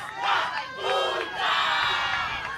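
A Namibian crowd at a youth games volleyball match cheers after winning a set, loud massed shouting in repeated surging waves, close and continuous with no commentary over it.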